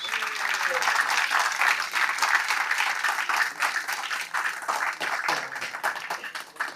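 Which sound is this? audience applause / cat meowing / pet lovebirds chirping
audience applause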